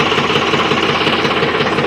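A tractor engine runs with a rotavator attached, a loud, steady mechanical clatter with rapid knocking pulses that continues without pause from start to finish.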